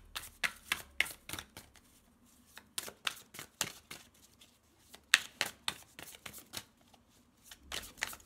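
A deck of tarot cards being shuffled by hand, close and crisp, in bursts of rapid riffling flicks separated by short pauses, repeated across the stretch without speech.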